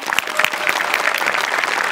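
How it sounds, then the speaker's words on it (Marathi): Applause from the studio audience at a Marathi comedy show, a full, even wash of many hands clapping, loud and sustained without a break. "जोरदार टाळ्या"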